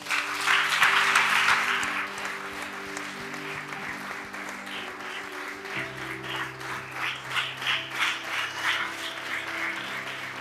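A church congregation applauds for Jesus during a Sunday service, loud sustained clapping from a crowd that swells at first, then continues with rhythmic claps over organ-like tones and a few voices.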